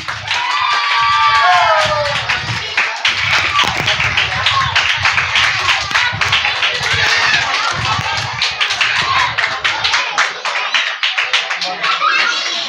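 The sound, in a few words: audience clapping loudly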